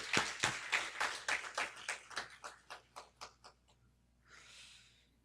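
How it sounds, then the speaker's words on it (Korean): A church congregation claps in a quick run of sharp, separate handclaps. The claps slow and fade over a few seconds, then a brief soft rustle follows. "우리 하나님 앞에 한번 우리 박수 한번 쳐 올리십시다."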